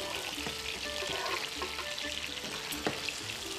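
Liver pieces for a beef stroganoff fry in a very hot pan and are stirred, giving a steady, close sizzle with scraping clicks of the utensil and a faint voice in the background.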